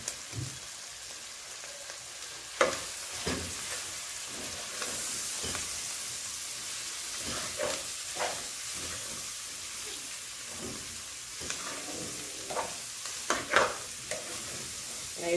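Grated carrots and rice frying in a pan, a constant hissing sizzle with frequent scraping stirs and clinks of a utensil, close up.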